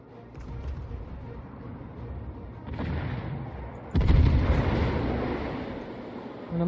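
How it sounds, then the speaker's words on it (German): Warship guns booming in World of Warships naval combat, a dense rumbling barrage that swells into a louder, closer salvo midway and keeps roaring to the end. "Die andere schießt auch schon."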